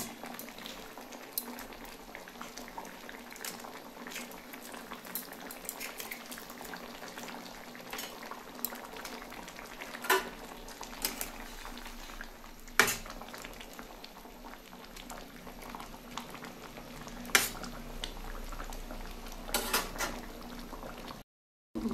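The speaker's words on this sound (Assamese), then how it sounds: "এতিয়া দিম মাছ।" Fish curry simmering in a pot, a faint continuous bubbling with scattered pops and small clinks as fish is added, no voices.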